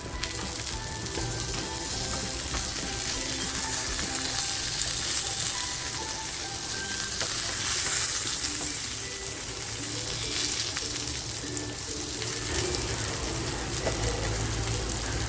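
Hilsa fish frying in a pan of oil on low heat, a continuous loud sizzle and crackle that runs without break, with no voices over it.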